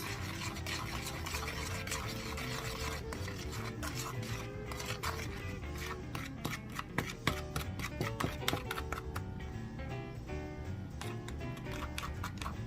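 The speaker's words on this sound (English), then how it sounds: "You mix everything together, the baking soda, the toothpaste, and the lemon juice." A paste of baking soda, toothpaste and lemon juice is stirred in a small container, making a continuous soft scraping and rubbing rhythm close by, over faint tonal background sound.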